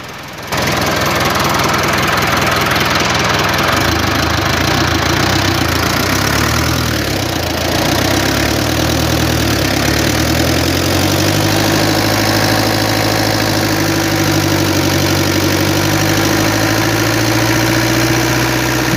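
A mid-pitched engine idles steadily and loudly throughout, with a slight knocking clatter in its rhythm from valve clearance needing adjustment, and no voices.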